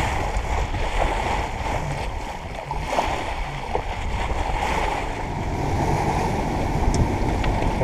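Sailboat under engine power with the genoa furled, crossing a flat calm sea in the lee of La Palma island: a steady low motor drone blended with continuous water rush and hiss, close and unbroken.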